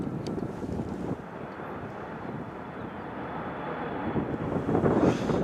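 A DHL cargo jet takes off into a cold, strong wind at Northern Kentucky International, giving a steady broad roar that builds slightly toward the end, mixed with gusty wind buffeting on the microphone.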